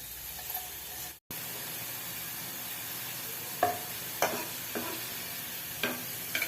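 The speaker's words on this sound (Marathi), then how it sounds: "असा सोनेरी कलर येऊपर्यंत आपण कांद्याचे स्लाइस तळून घेतलेले आहेत सर्व" Sliced onions frying in oil until golden for a brown gravy: continuous crackling sizzle with a brief gap early on, then occasional louder spits and stirring clinks, no talk.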